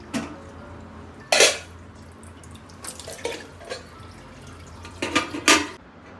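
Water runs into a container at a kitchen sink in a few short, uneven bursts of splashing, with faint clinks between them.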